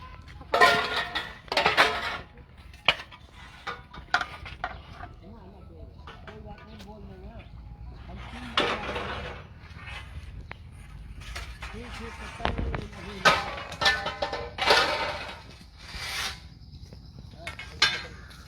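Repeated sharp hammer strikes ring out in uneven bursts during a hands-on practical training session, some loud and close, others lighter. People talk between and over the blows.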